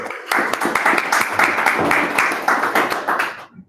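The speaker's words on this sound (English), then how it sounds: "So I'm going to clap right now." An audience at a talk breaks into a short burst of clapping, dense and steady for a few seconds before fading out.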